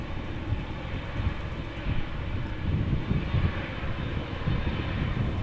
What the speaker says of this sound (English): This is a Boeing 787-9 Dreamliner, the mid-size edition so to speak.